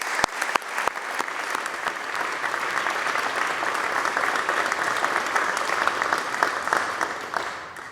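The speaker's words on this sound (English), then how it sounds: "I would like a round of applause for all of them" Sustained applause for legislative staff fills a chamber at the close of a state legislative session, many hands clapping steadily together, with a few sharp louder claps at the start before the sound tapers off near the end.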